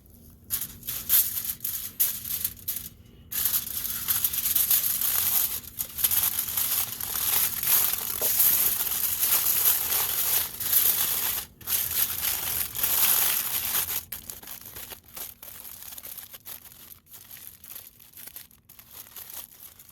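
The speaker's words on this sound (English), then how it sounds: "we're going to be using some aluminum foil to create a container" Aluminum foil crumpled and shaped into a small container, loud continuous crinkling and crushing up close, easing off toward the end.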